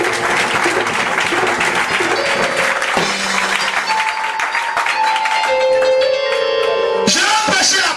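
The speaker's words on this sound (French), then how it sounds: "Acclame d'abord pour toi-même." A congregation at a Sunday church service claps in a loud, sustained burst, mixed with voices and held musical tones that swell toward the end.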